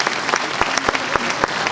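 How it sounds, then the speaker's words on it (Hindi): Audience applause greeting an honoured guest at a live public function at Shahid Smarak Bhavan, a steady dense wash of clapping hands with a few sharper individual claps standing out, fairly loud and close, with no voices over it. "उनका भी जोरदार ताली के साथ में अभिनंदन करें।"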